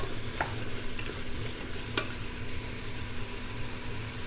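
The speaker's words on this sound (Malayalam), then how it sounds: "ഇനി നമുക്ക് ഉരുളക്കിഴങ്ങ് ഇട്ട് കൊടുക്കാം അതും കൂട്ടി ഒന്ന് മിക്സ് ചെയ്യാം" Potatoes being stirred into a curry frying in a pan, a meatless take on mutton curry: steady close sizzling with a couple of sharp scraping clicks from the stirring utensil, and no talking.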